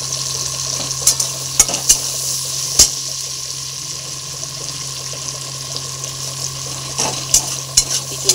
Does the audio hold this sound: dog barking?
no